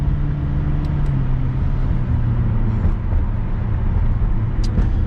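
A McLaren driven through London streets, heard from inside as a steady, loud low engine drone and road rumble with brief higher clicks, no talking.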